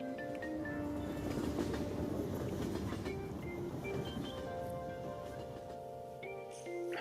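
Steady rumble and rattle of a commuter train ride in the video game Persona 5 Royal, a continuous mid-level rolling noise with faint tonal hum and no speech.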